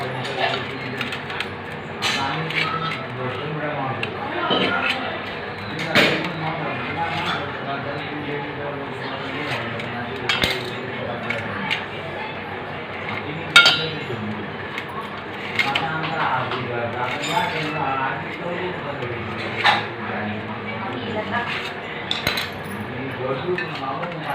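A knife cuts steamed dal batti dough balls into small pieces on a hard surface, giving a steady run of close, light tapping and clinking strokes over a quiet background hum.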